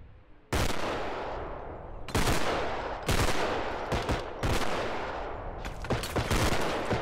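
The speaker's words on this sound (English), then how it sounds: "I don't see where the shots are coming from." Gunfire from the video game Bodycam comes in sharp, loud, close bursts. Several single shots and short rapid volleys are separated by brief gaps, with no talking.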